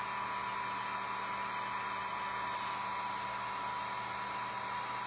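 A hair dryer on a low setting blows steadily over wet, freshly painted Christmas ornaments, a constant close whooshing hum with a faint tonal whine and no talking.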